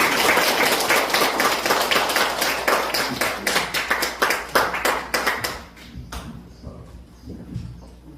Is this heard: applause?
yes